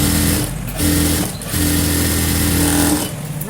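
A sewing machine stitches a seam on a princess-cut frock, whirring loudly in close bursts with brief slowdowns between runs.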